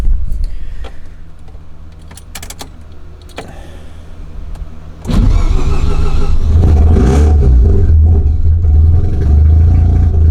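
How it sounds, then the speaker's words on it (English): Quiet clicks and rattles, then a Mazda RX-7 FD engine abruptly cold-starts and settles into a loud, steady idle that fills the rest of the clip. "Cold start right now."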